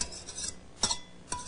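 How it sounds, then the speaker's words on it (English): Utensil stirring an egg into cornbread batter with shortening, a few short scraping clinks against the bowl spaced about half a second apart, close and fairly quiet with no talking. "What you got to do is stir that egg."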